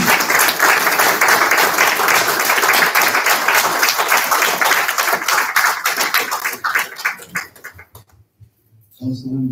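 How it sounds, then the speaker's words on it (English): Audience applause rising for the women in the room, a loud, dense wash of many hands clapping that holds for several seconds, then thins out and fades before a voice returns. "round of applause for the women, please?"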